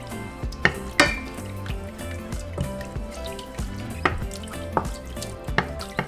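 Butter and evaporated milk being stirred in a pan for a nacho cheese sauce, giving soft scraping and occasional clinks of the utensil against the pan, with light drips and a faint sizzle, close and moderately quiet, no talking.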